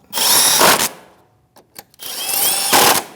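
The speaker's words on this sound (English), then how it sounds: "Take your little self-tapping screws, start them in place. 7 millimeter socket, snug them up." Power driver with a 7 mm socket snugging self-tapping screws while a rear shock absorber is replaced on a Chevrolet Malibu: two close, loud whirring bursts separated by a short pause with a few small clicks.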